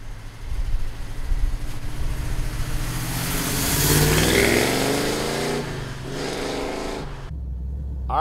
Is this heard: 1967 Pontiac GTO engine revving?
yes